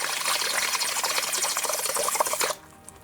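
A cheap airbrush being flushed through with water or solvent, a loud sputtering, gurgling spray for about two and a half seconds that then stops abruptly.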